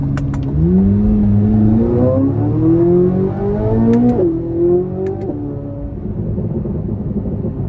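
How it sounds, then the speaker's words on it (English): A 2024 Chevrolet Corvette Z06 pulls hard out of a corner, its engine note climbing steadily through the revs with brief dips at gear changes, loud and close, with no talk over it. "And the exhaust sound, the engine sound, everything, it does feel like a Ferrari."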